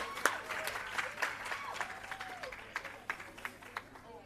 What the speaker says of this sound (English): Keep the applause going for Donna Anderson, Hanover.